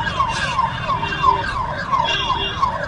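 Siren of an escort vehicle accompanying a skating rally from Varanasi to Lucknow, a repeating wailing sweep over road and traffic rumble, moderately near and continuous.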